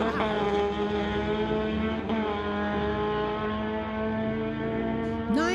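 Racing motorcycles in the motorcycle class at a street legal drag race, their engines holding a loud, steady high-pitched drone that bends slightly and rises again near the end.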